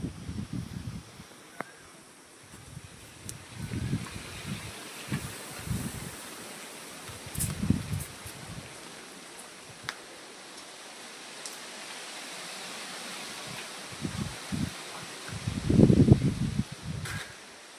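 Wind blows at the seashore as a steady, broad rushing hiss, with gusty low buffets that come and go and a stronger surge near the end.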